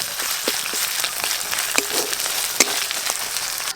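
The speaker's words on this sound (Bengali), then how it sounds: "আদা রসুন বাটা দিয়ে দেব।" Ginger garlic paste fries in a pan with a close, steady sizzle full of tiny crackles and pops, one or two sharper spits standing out.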